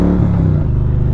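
An Indian Roadmaster motorcycle with a Thunderstroke 116 V-twin engine runs at light part throttle, a loud, deep, throbbing exhaust rumble that holds steady through a short burst, with no talking.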